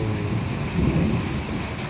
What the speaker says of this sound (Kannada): ಮಳೆ ಬಂತು ಮಳೆ ಬಂತು ಹನಿ ಹನಿಯಾಗಿ ಬಂದಿತು